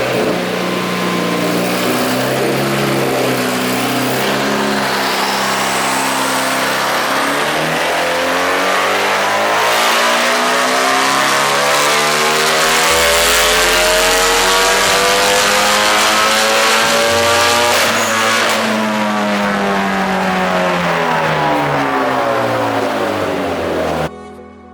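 A tuned car engine roars through a full power pull on an AlphaSpeed tune, rising steadily in pitch for over twenty seconds, then dropping briefly and climbing again, loud and close with no talk.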